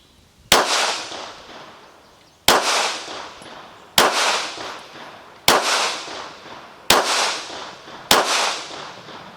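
A Ruger RXM pistol with an Icarus Precision grip module fires six sharp, loud shots at a steady pace, about a second and a half apart, each followed by a ringing decay as it hits the target.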